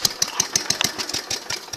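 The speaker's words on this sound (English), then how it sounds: "She idles real good now too with the points." A Gravely Commercial 12 walk-behind tractor engine, running on points ignition, idles steadily up close with even, regular firing pulses, alone with no talk.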